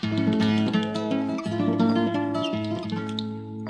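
Guitar within a 1970s children's party orchestra, sustained chords and melodic notes ringing steadily over a full band backing for several seconds, no voices.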